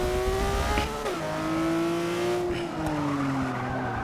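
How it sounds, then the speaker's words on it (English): Tires squealing on a Porsche RS 4.0 in the Forza 6 racing game, a loud sustained screech that bends in pitch over a continuous revving engine, with no talking. "Just scorching these tires."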